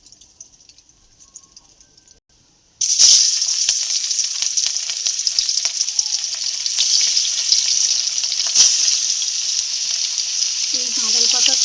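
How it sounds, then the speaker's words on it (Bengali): Fish rubbed with salt and turmeric hits hot oil in a pan for a fish curry: a near-silent start breaks into a sudden loud, steady sizzle that holds to the end, with small pops and crackles. "তাহলে এবার আমি মাছটা ভেজে নেব"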